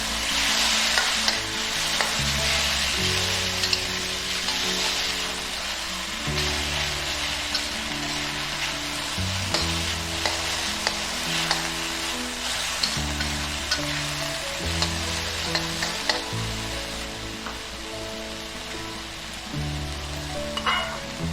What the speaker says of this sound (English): Stir fry for 3 to 4 minutes.